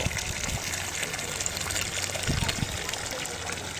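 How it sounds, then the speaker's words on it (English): Water pours off the edge of a trough into a reservoir below in a recirculating backyard garden water feature landscaped with brick nuggets, a steady close splashing gush with no pauses. "the water goes into the trough down below and then just cascades off the side, and then basically recirculates in the reservoir that's below"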